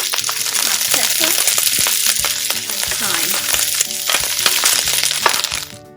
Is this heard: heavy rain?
no